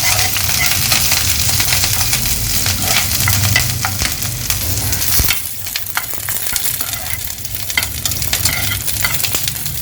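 Green chili and curry leaves dry-roast in a pan with a loud, continuous crackling hiss and constant scraping of a stirring spoon.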